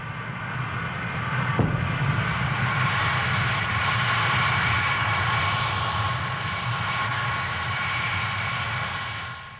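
Concorde jet engines roaring during taxiing trials at Bristol, a loud steady drone with a whining tone that holds for several seconds, with one brief knock near the start.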